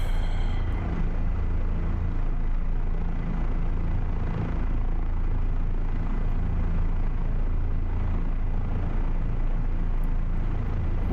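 An OH-58 Kiowa helicopter in the DCS flight game, its steady loud rotor and turbine drone rumbling continuously without a break.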